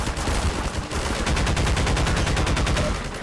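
Rapid bursts of automatic gunfire from Half-Life 2, loud and close, a steady rattling stream of shots running almost continuously with one brief pause near the start.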